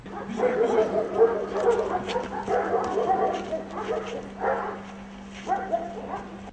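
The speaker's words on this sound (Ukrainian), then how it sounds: "У розпліднику виховуються 26 службових пси." Service dogs in a prison kennel, including German Shepherds, bark and yip repeatedly in short bursts, with some whimpering, fairly close, under a steady low hum.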